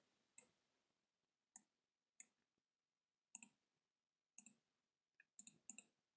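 A computer mouse clicks in sharp, isolated pairs and singles, double-clicking in quick taps with pauses between them while text is edited in a design program, close and otherwise silent.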